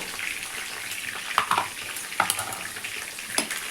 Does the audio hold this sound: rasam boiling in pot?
yes